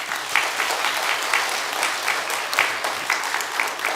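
A church congregation claps steadily in warm welcome as a visiting professor and pastor comes forward to preach, a dense, continuous round of applause with no voices over it.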